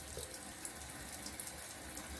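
Cold tap water running steadily from a faucet into a sink for a post-shave rinse, a continuous even splashing stream heard close up with no talking.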